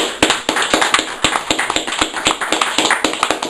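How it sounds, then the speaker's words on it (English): A small audience claps between poems at a page-poetry reading in Swindon, giving a brisk burst of dense, sharp hand claps that carries steadily for a few seconds with no talk over it. "more applause"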